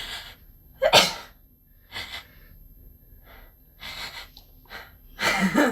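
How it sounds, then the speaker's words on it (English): A single sharp sneeze from a person rings out close and loud, framed by softer gasps and breaths, with another burst of breathy noise near the end. "They don't want to hear me sneeze."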